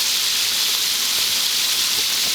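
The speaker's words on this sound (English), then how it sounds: "you can see the oil frying up the fish right now" Constant bright sizzling and crackling of catfish frying in hot oil, an even hiss close by with no voices.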